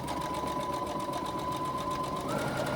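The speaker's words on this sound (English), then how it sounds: "What you do now is top stitch each of those folds." A sewing machine runs steadily while top stitching folded fabric for a pocket pouch, a close, continuous motor whir with a rapid needle rhythm that rises slightly near the end.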